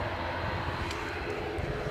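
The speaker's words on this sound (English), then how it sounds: "That background noise you can hear is the lawnmower engines attached to the ATR" Turboprop engines of an ATR 72 give a steady, distant droning hum near a windy airport, continuous and fairly faint with no talk over it.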